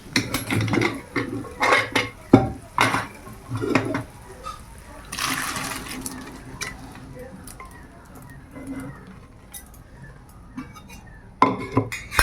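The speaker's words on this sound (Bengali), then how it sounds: "এবার মটরটা দিয়ে দেই।" Peas are tipped into a pan of ghugni in a village kitchen: a brief rattling pour and some clattering of pots and utensils, with speech around it.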